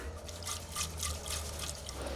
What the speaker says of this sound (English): Do you hear that? How much water is in it?